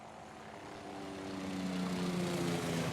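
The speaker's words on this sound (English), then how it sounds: "Helicopter." A helicopter flies overhead in a video game, its steady droning engine and rotor hum slowly growing louder with no talk over it.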